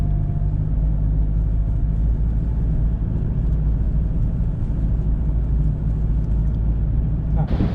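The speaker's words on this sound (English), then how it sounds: "we went for a bit of a drive down the beach, just to get the feel of driving on the flat sand" A car drives over the flat sand of Stockton Beach, its engine and tyre rumble a loud, steady low drone heard from inside, continuous throughout.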